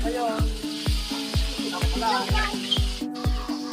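Snails hit a hot pan of reddened onions for ginataan kuhol and sizzle loudly, with a regular thumping beat and music running underneath.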